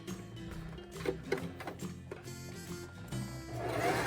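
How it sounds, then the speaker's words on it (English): A sewing machine stitches a narrow hem close to the folded edge of a sleeve, giving a quiet, steady mechanical whirr with rhythmic ticking that runs throughout. "I'm just going to try to stitch close to that folded edge"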